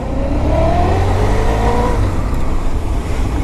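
A 2010 Honda VFR1200F sport-touring motorcycle engine pulls hard on a test ride, its loud, steady drone rising in pitch under acceleration with wind rush throughout, close to the rider.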